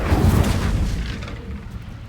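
The Incendio fire spell goes off in Hogwarts Legacy, a loud deep whooshing burst that rumbles and fades over about two seconds.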